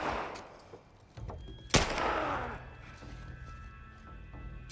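A single loud gunshot rings out in The Last of Us Part I, followed by a decaying echo and lingering low ambient game noise, with no other shots around it.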